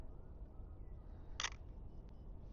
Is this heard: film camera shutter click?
yes